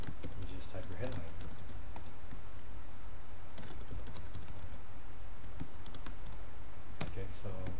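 Steady typing on a computer keyboard, close and moderately quiet, with bursts of rapid key clicks separated by short pauses.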